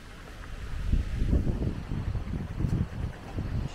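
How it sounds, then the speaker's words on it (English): Strong wind on Iceland's Laugavegur trail buffets the microphone in low, rumbling gusts that swell and fade over a few seconds, loud and close with no voices. "the wind has really picked up"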